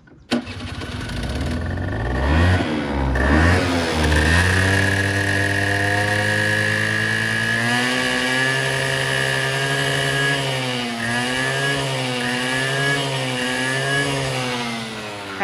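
A Honda Giorno 50cc two-stroke scooter engine is started, sputters with rising and falling revs, then settles into a steady, buzzy idle close to the recorder with a few blips of throttle.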